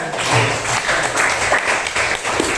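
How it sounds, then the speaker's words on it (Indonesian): A class applauding together in a school lesson, a short, loud wash of clapping from many students, steady and close with no clear pauses. "oke, tepuk tangan semuanya"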